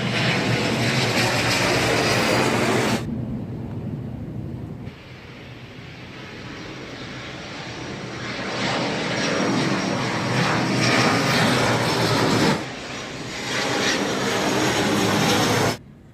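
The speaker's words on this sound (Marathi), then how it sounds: "तर पाहिलात किती विमानं जातात वरून" Loud, broad engine roar of aircraft passing overhead, swelling and fading in waves, with a sharp drop in the middle before the rumble builds again.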